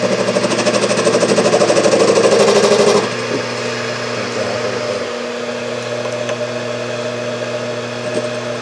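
Small mini lathe from a budget restoration with a custom control box and speed control, running while facing off a part: a loud steady mechanical whine that eases to a lower, quieter hum partway through, with no talk.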